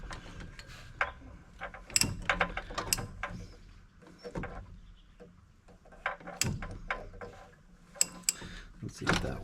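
A 24 mm socket wrench ratchets on a 1981 VW Vanagon, uneven bursts of clicking and metallic ticks with short pauses between strokes, close and moderately quiet, with no speech.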